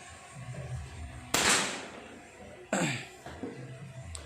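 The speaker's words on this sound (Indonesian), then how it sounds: "Ini beberapa kali jedor ya, bukan hanya 1 jedor 2 jedor, tapi bolak-balik jedor-jedornya" Shots from a Marauder Titan OD 38 PCP air rifle firing Hercules pellets, heard as two sharp loud cracks a little over a second apart, then a softer third pop, over a low background rumble.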